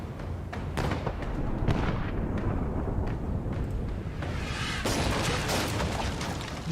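Ship cannon fire in the Pillars of Eternity 2: Deadfire video game, a dense, loud barrage of booming blasts and crackling impacts rolling continuously without talk.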